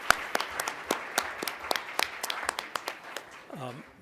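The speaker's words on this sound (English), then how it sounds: "let's get a round of applause for everybody who's on the panel today" Scattered clapping from a modest conference audience honouring a patient panel, with distinct individual claps in loose rhythm, and a voice briefly audible near the end.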